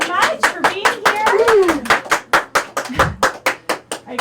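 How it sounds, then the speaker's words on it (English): Scattered audience applause, a dozen or so distinct claps in an uneven rhythm, loud and close, with a voice speaking over the first half. "I appreciate the spirited applause"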